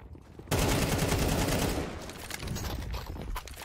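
Rapid Counter-Strike 2 gunfire bursts in loud, dense succession, with overlapping shots and rattling automatic fire filling the scene.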